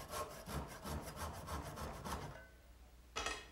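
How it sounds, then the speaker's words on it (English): Back saw cutting off small wood scraps from a drop leaf table part clamped in a bench, a close rhythmic rasp of steady push-pull strokes, then a pause and one last stroke. "use a back saw to cut off the little scraps"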